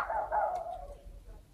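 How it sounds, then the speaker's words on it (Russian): A dog barks once, loud and close, and the bark trails off into a low, quiet background. "Это там лай, как всегда."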